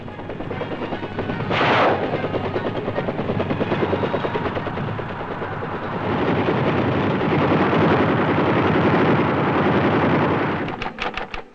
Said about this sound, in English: Independence of movement was provided by 2 platoons of troop-carrying helicopters and a gunship platoon.